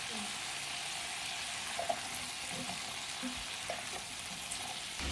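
Potatoes fry in hot oil with dry red chillies and nigella seeds, giving a continuous bright sizzle with occasional stirring clicks, fairly close and unbroken by speech.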